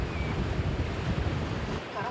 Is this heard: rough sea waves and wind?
yes